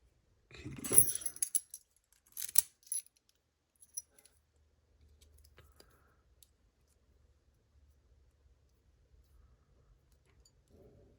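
A bunch of keys handled close up at a lock-picking bench, jangling in two quick metallic bursts in the first three seconds, followed by a few faint clicks and near silence.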